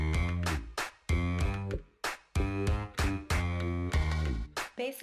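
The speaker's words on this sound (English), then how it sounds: "So turns out that most toilets in Japan can play music." Japanese toilet plays a melodic electronic tune in short bursts, with bright tonal chimes separated by brief pauses and a closing flourish. The music is clear and close, with no talking.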